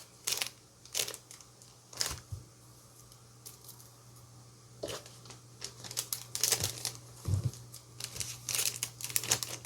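Plastic packaging bags being folded evenly produce a series of close crinkling rustles in irregular bursts, some sharp and crackly, others softer, with quiet pauses between handling and a faint steady hum beneath.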